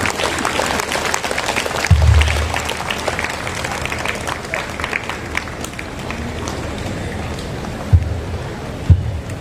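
Applause from the congregation at a church festival mass, a steady broadband patter of many hands with a few louder claps standing out, some faint voices mixed in.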